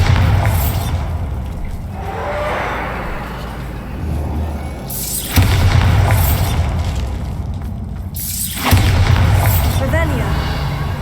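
Bombarda blasting spell explosions in Hogwarts Legacy, three loud booming blasts a few seconds apart with a rumbling tail, over a dense background of game sound.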